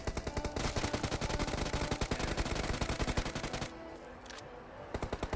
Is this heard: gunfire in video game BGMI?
yes